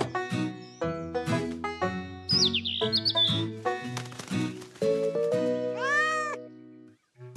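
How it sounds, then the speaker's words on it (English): A cat meows repeatedly from up in a tree, its cries mixed with bright chirping and jaunty animated background music, fairly loud and close throughout. "It was meant to lure down that cat stuck in the tree."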